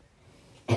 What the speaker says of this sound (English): Byron coughed.